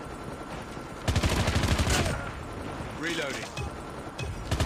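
Rapid gunfire bursts in a Call of Duty multiplayer match, sharp repeated shots near and loud, mixed with game voice callouts announcing a stealth chopper and sentry gun.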